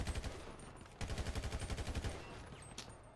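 Fast automatic fire from a gun in a 2-on-2 video game match, a steady rhythmic burst of evenly spaced shots that runs for about two seconds and then breaks off.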